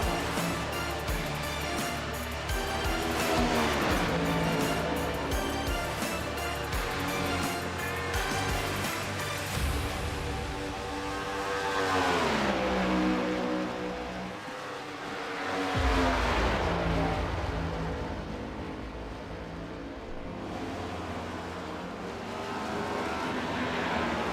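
NASCAR Cup Series Next Gen cars racing at Talladega in iRacing, engines roaring in rising and falling waves as the pack passes, loud and continuous with pitch sweeps and no talk.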